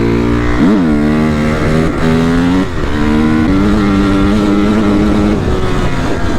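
A Honda CRF 250 motorcycle engine with a faulty carburetor runs loud and close at low revs, its steady harmonic drone lifting briefly as the throttle is blipped, with possible exhaust popping.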